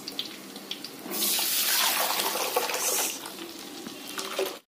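Ground paste is poured into hot tempering oil with fried red chillies and curry leaves for drumstick-leaf kuzhambu, giving a loud, hissing sizzle that swells for about two seconds and then settles to a quieter crackle.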